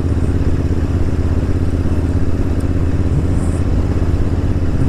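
A Royal Enfield Interceptor 650 motorcycle engine running steadily at about 2,000 rpm, a constant close rumble with a faint mechanical clatter and no change in pitch.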